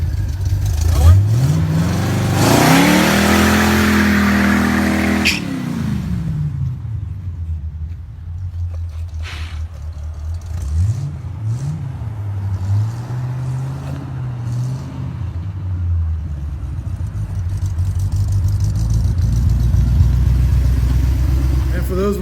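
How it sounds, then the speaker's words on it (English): A 1969 Pontiac Firebird with an open differential roars through a burnout, its engine revving hard and rising in pitch before easing off into a loud, rumbling idle with more revs, while voices talk over it. "But it still did a burnout, so I was pretty happy about that."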